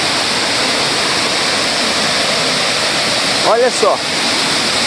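The Cachoeira do Prata waterfall gives a loud, constant, hissing roar that fills the whole stretch, with a brief voice speaking over it near the end.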